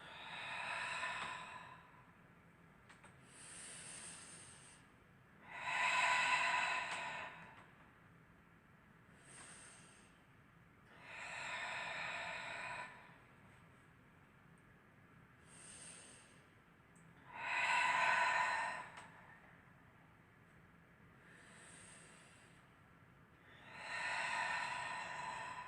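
Slow, deliberate breaths in and out during a short exercise session, each long airy exhale or inhale separated by quiet pauses, close and fairly soft, repeating about eight times with no talking.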